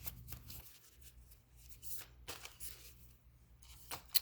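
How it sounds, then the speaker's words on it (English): A deck of angel cards is shuffled by hand, soft riffling and sliding bursts repeating in quick irregular strokes, close but quiet, with no talk. "Let's get an angel card."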